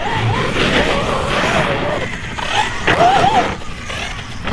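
An ARRMA Nero 6S BLX radio-controlled monster truck on 6S power, running with a locked center differential, drives steadily with a continuous motor whine and tire noise, with brief chirping rises in pitch near the end.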